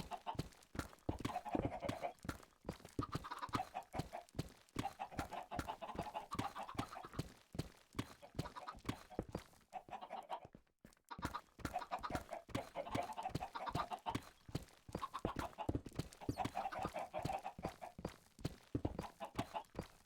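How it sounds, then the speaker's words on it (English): Many chickens in the Minecraft video game clucking steadily, with a dense stream of short rhythmic clicking taps running throughout, soft and continuous with a brief lull midway. "There's so many chickens here."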